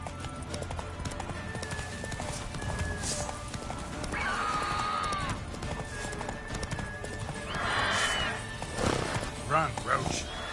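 In Witcher 3, the horse Roach gallops with rapid clip-clopping hooves and lets out loud neighs and whinnies, with a voice speaking over the action.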